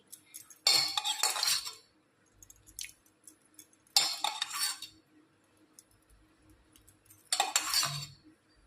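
Spoon stirring curd into warm milk in a metal pot: three separate bursts of scraping and clinking metal on metal, each about a second long, with quiet pauses between and no voices.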